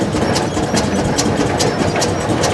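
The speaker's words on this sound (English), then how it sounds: "1913 International Mogul, 30, 60 horse twin cylinder engine" A 1913 International Mogul 30-60 horsepower twin-cylinder tractor engine idling steadily with a chugging, mid-pitched rumble, close and continuous with no talk.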